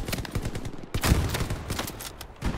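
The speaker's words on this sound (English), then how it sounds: "That's me shooting." Gunfire in the video game Hell Let Loose, with a loud burst of rapid shots followed by a few more spaced cracks and echoing reports over a short stretch, no speech.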